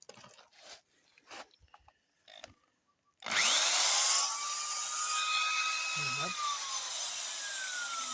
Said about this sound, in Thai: นี่สว่านทำงานนะครับ